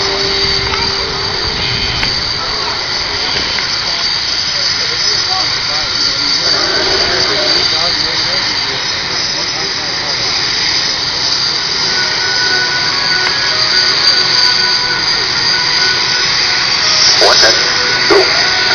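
A jet aircraft engine running before takeoff, a loud continuous roar and whine, steady throughout with no breaks.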